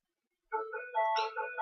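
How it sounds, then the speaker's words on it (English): A phone ringtone begins after a brief silence: a bright electronic melody of quick notes, clear and moderately loud, with no voices. "I hope you can hear that phone in the background."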